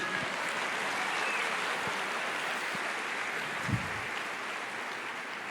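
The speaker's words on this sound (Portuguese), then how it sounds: "Aplauda mais, igreja." A church congregation applauds during a worship service, a steady wash of clapping that fills the room at moderate level for several seconds with no voices heard.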